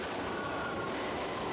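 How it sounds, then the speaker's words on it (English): Underground metro train arriving at a station, a loud steady rumble and roar of rolling rail cars throughout. "Here are some people at the station. And here comes the train."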